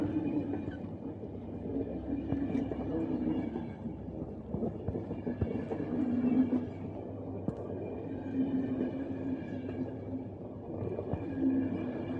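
Train moving in the video game The Final Station, a continuous low rumble with droning tonal hum and faint rhythmic rattles, steady throughout and without speech.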